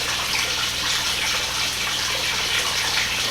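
Water flows steadily through a homemade backyard pond filter, a continuous close gushing rush like a running tap, with no speech over it.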